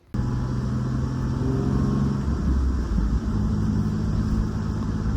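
A Nissan 350Z fitted with a bucket seat and harness, driven on the road: a steady, loud engine drone and low rumble from inside the cabin, continuous after a brief start, with no talking.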